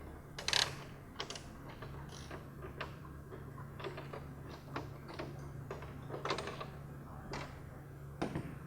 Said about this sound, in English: so just go ahead and start unscrewing.